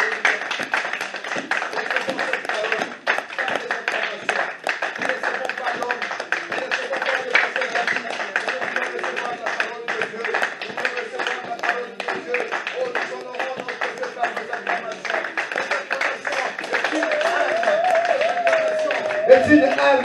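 A church congregation at a Sunday service claps in acclamation, a dense, steady crowd of hand claps that runs on without a break and swells slightly toward the end, with voices mixed in beneath.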